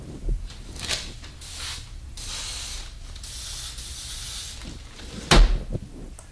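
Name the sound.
cooking spray being sprayed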